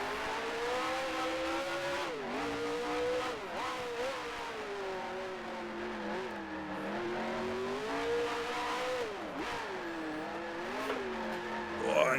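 Race car engine in the racing video game Grand Prix Legends, revving continuously with several sharp pitch drops as it downshifts and brakes into corners, then climbing again, steady and alone with no talk.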